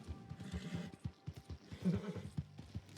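Horse in the video game Red Dead Redemption 2, with rhythmic clip-clopping hooves and a whinny partway through, close and fairly loud, with no talking.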